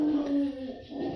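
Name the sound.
dog barking and howling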